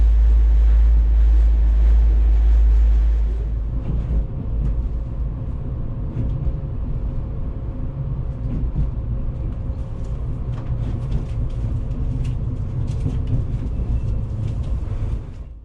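Small Hungarian Bzmot regional railcar running, heard from inside the coach as a steady low rumble and rolling drone, a loud heavy burst at first then an even hum with faint rattles.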